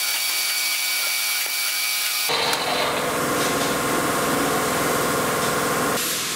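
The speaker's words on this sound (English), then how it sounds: "I'm going to put an M4 tapping there. So I'm just using the drill bit there." A 3.25 mm bit drilling a pilot hole for an M4 tap in a home-made engine piston gives a loud, steady machine whir that starts abruptly after a quiet stretch of motor hum and keeps running, with no talk.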